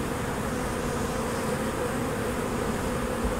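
Packaged honeybees buzz in a dense, continuous swarm drone as they are shaken from their box into a hive, steady and close with no voices.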